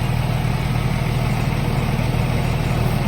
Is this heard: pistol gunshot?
no